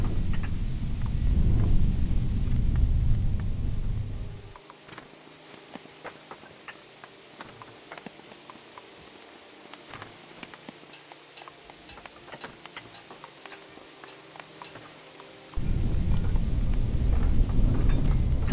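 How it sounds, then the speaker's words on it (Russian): Rain and rolling thunder in the strategy game Rise to Ruins come in heavy, rumbling bursts at the start and end. Between them is a quieter stretch of scattered ticking drops, with no voices. "Пошел опять дождь."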